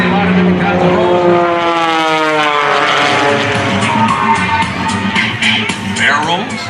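A propeller-driven aerobatic airplane performs rolls and inverted passes low along the runway at the 2019 Westmoreland County Airshow, its loud engine snarl rising and falling in pitch with Doppler sweeps as it passes close.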